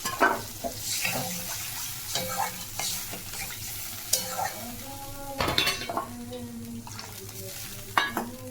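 Water is added to a simmering, well-fried vegetable curry, then a spoon scrapes and clatters repeatedly against the pot amid gentle sizzling, close and fairly loud, with no talking.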